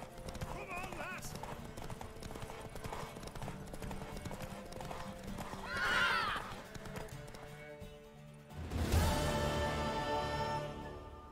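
Horse hooves clip-clopping at a run in The Witcher 3 over game music and character voices, with a louder burst of hoofbeats and a whinny near the end.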